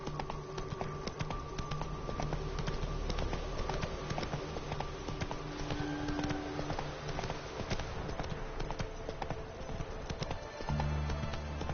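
Roach, Geralt's horse in The Witcher 3, gallops with a steady, continuous drum of hoofbeats beneath a busy game soundscape and music, with no talking.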